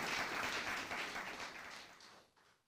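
Congregation applause at a church worship service, a dense wash of clapping that starts loud and gradually fades out over a few seconds, with no voices on top.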